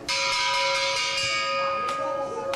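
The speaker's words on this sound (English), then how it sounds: "There's the bell." A wrestling ring bell rung at a women's match, sounding as a bright sustained metallic ring that starts sharply and keeps resonating, with a second strike near the end, over crowd noise and commentary.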